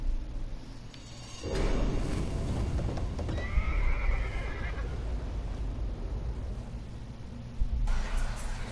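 A horse whinnies in the horror video game Layers of Fear, one loud, shaky neigh rising above a dense, rumbling game soundscape, with hoof clip-clops and heavy low noise around it.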